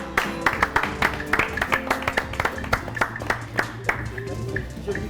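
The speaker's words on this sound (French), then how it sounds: "Pour madame, ça s'applaudit." Audience applause with a steady run of sharp claps at a ceremony honouring a woman's film career, moderately loud with talk mixed in.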